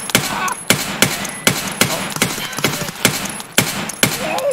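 Gunfire in a shooter video game rings out as about nine loud, sharp single shots at a steady, deliberate pace, each with a short echoing tail.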